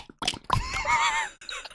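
A human voice imitating a horse neigh, a short wavering whinny of about a second preceded by brief breathy sounds, close and fairly clear.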